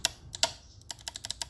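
Crisp plastic clicks from the paddle shifters on a Fanatec F1 2018 steering wheel, about a dozen quick, close taps in an irregular rhythm, alone and fairly quiet.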